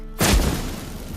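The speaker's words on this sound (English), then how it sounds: "Get ready for some magic fireworks." Magic fireworks in The Witcher 3 video game go off in a single loud, deep boom after a brief lead-in, then decay into a rumbling, crackling tail.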